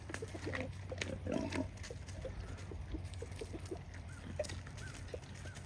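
Pigs on a farm feeding on smashed, discarded pumpkins, with steady grunting and chewing noise that stays fairly quiet and continuous, along with some faint background farm sounds.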